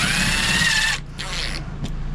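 A cordless driver whirs loudly for about a second, then gives two shorter fainter bursts, driving a screw to fit a 12-volt ceiling light fixture inside an RV.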